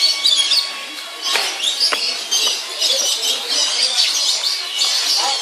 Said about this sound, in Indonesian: Ini burung apa ini?